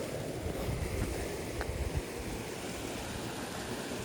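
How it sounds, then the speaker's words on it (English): A waterfall pours into a hot spring pool at Fifth Water Hot Springs on a winter night, making a steady, dense rushing roar throughout, with some low wind buffeting and no voices. "the source of water to this pool is that waterfall"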